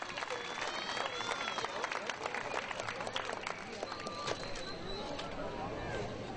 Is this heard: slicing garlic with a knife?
no